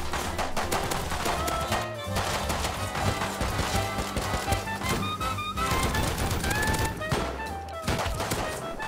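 Dense gunfire in the shooter game Rust during a gun game match, rapid overlapping shots and crashes filling the scene continuously and loudly, with no talk.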